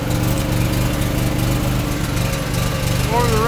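A small pony motor running on a gooseneck trailer, a loud, steady buzzing engine drone close by, with a voice talking over it near the end.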